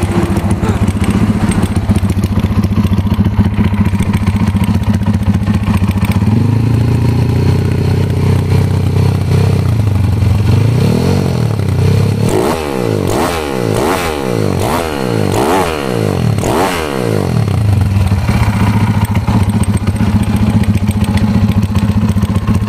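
A Honda C70 motorcycle with a 210cc engine idles loudly up close, then is blipped through several quick, sharp revs in a row before settling back to a rumbling idle, with no talking.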